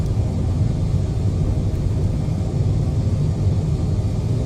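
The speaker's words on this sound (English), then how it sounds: "we're doing a reduced thrust takeoff here, guys" Boeing 787 engines on a reduced-thrust takeoff in MSFS 2020 give a steady, loud low rumble with a broad roar, continuous and unbroken for the whole stretch, with no talk over it.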